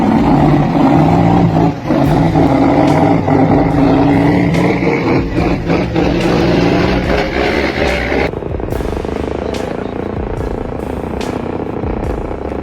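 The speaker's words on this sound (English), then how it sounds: "The engine roared with effort, black smoke billowing from the exhaust like a labored breath." An off-road truck hauling logs strains its engine up a steep, muddy slope, a loud continuous roar with rising effort and rough mechanical clatter throughout, no voices.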